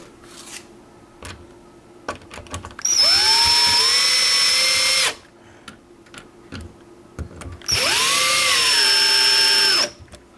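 Power drill driving screws while mounting a Kevo smart lock, two sustained bursts of whirring motor with a clear pitch rise, separated by quieter handling clicks and taps nearby.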